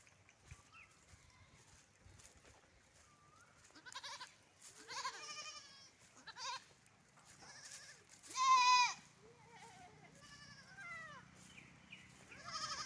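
Goats bleat repeatedly at varied pitches, some near and some farther off, with one loud drawn-out cry standing out midway over a quiet background.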